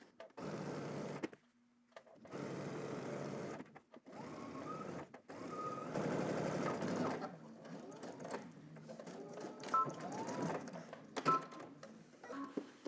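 Sewing machine runs a pocket bag seam with a 5/8 inch allowance in several short bursts of stitching, starting and stopping, with faint handling noises between runs.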